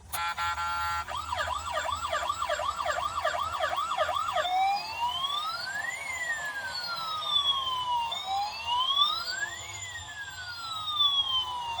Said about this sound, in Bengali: দেখো আমার কাছে আছে অ্যাম্বুলেন্স। এটা কিন্তু সুইচ দিলে চলবে।